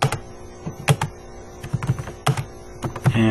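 Quick bursts of keystrokes on a computer keyboard while C++ code is entered, irregular clusters of clicky taps with short pauses between, close and clear with no talking.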